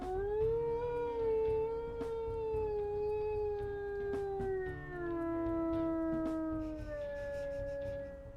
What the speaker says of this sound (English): Oh yeah, she has the super long howl.